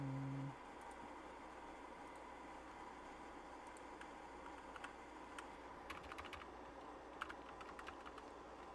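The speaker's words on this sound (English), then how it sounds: "I'm using my keyboard." Typing on a computer keyboard while logging green bean details, with quiet, scattered clicks and short bursts of keystrokes over a faint steady background hum, close by and low in level, with no talking.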